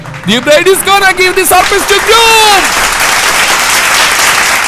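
A narrator's voice in a Malayalam story comes first, then a burst of group applause mixed with cheering washes in and keeps going at full level.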